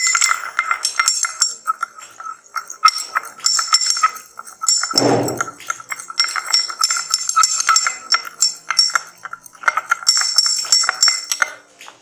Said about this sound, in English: you can stir.